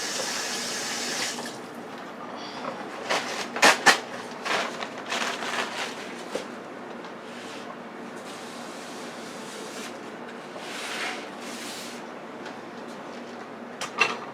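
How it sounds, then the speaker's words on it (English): Hands are washed under a running kitchen tap, a steady close stream of water with brief splashes and rubbing bursts in the middle, at moderate volume, with no talking. "Let me wash my hands."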